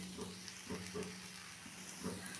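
Sabudana khichdi being stirred in a frying pan with chopped coriander mixed in, giving a soft, steady sizzle broken by a few light scraping strokes at irregular intervals, quiet and close.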